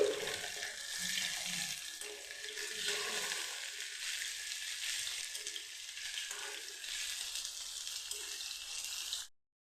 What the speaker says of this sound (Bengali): কড়ার তেলটা গরম হয়ে গেছে এখন সবগুলি মাছ আমি ভেজে নিচ্ছি